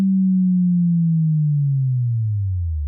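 A pure sine-wave tone glides smoothly downward in pitch for three seconds. It forms the low, clean base of a movie-trailer boom and plays alone at steady loudness.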